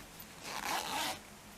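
A zipper on a crochet bag is pulled in one smooth, brisk run lasting under a second, close up, with quiet before and after.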